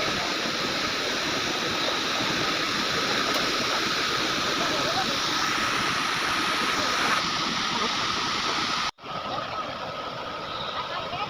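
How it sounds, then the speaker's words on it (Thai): Water flowing over the top of Tat waterfall and dropping away, a loud, steady rushing roar that fills the clip, with a brief cut near the end before the roar resumes. "อันนี้ก็จะเป็นภาพเบื้องเทิงน้ำจะไหลไปแล้วก็จะตกลงไป"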